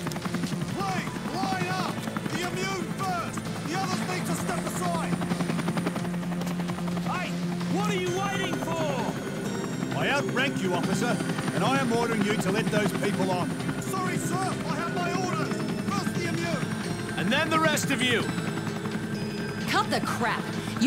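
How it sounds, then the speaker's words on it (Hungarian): A helicopter arrives for an evacuation in Dead Island Riptide, its steady rotor drone running continuously throughout while game voices and talk carry on over it. "Itt jön a"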